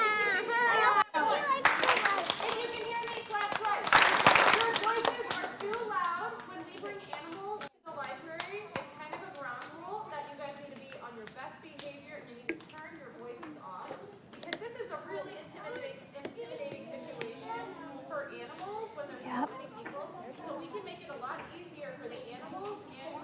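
Children in an audience clap their hands together after being asked to, a burst of lively applause at the start that gives way to chatter and an adult speaking over a hum of young voices.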